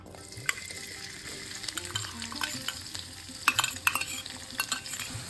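Onion sautés in hot oil with crackling fennel seeds for a raw banana kurma, a steady close sizzle broken by spatula scrapes and sharper pops that grow busier in the second half.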